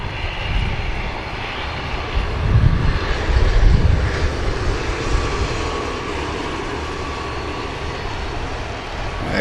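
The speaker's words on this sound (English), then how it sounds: "There goes the Emerald Airlines operated ATR" Emerald Airlines ATR turboprop passing at Manchester Airport, a loud propeller-engine drone that peaks briefly early on, then settles into a steady fading hum.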